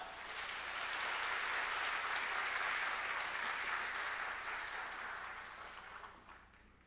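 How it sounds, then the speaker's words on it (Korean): Warm, sustained applause from a Korean church congregation at a Sunday worship service as a pastor is welcomed to preach, many hands clapping together in a broad wash that swells and then fades toward the end. "큰 박수로 모시겠습니다"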